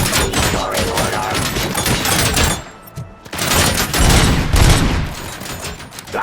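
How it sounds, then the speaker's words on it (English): Gunfire in the RoboCop Rogue City video game, a loud sustained fusillade of rapid shots and thuds with a brief lull midway before the shooting resumes, a robotic voice speaking over it. "Terminating aggression. Abide my jurisdiction. Restoring order."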